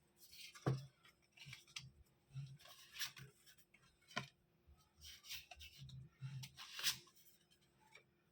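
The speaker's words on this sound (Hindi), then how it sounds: "कार्ड को शफल करके हम देखते हैं." Osho Zen tarot cards are shuffled by hand in soft, close bursts of riffling and sliding, with short pauses and light taps between bursts in a quiet room.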